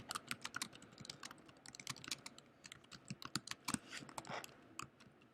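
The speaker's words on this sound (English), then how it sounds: "So I'm going to just type in some text" Someone types text on a computer keyboard, making quiet, close, irregular clicky keystrokes in quick runs throughout, with no speech.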